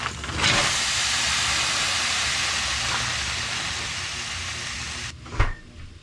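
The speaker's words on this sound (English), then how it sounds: "in the pan, you're going to add peppers, onions, and all the veggies" Peppers, onions and other vegetables sizzle in a pan, a loud steady hiss filling most of the clip before cutting off abruptly near the end, followed by a brief clatter.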